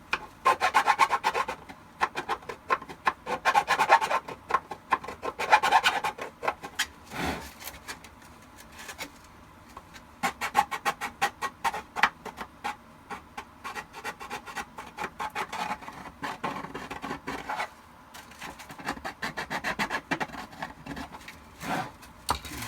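Hand filing of holes in plastic stormtrooper armor for a shadow trooper build, a steady run of close, rasping back-and-forth strokes in bursts with brief pauses, no talking.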